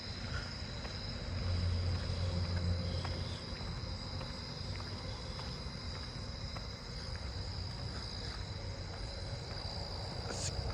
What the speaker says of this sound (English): Southeastern field cricket.